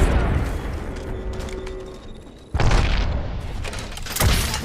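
A frag grenade detonates in a video game with a sudden, loud booming burst midway through, after a stretch of busy in-game rumble and clatter, followed by a second swell of noise near the end.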